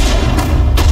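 Infantry gunfire in the strategy game Sudden Strike 4, a dense low rumble of shots and booms with two sharper bursts, loud and continuous through a short stretch of battle.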